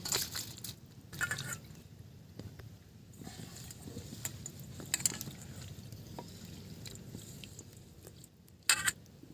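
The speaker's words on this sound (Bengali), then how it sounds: "আর একবার আমি চিংড়িগুলো ধুয়ে নিচ্ছি" Fresh prawns rinsed in water by hand, wet splashing and squelching in irregular bursts with a few sharper sloshes, close and moderately quiet.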